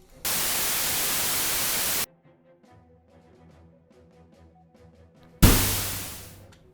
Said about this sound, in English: So I'm gonna add a little white noise layer in here.